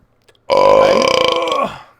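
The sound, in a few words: burp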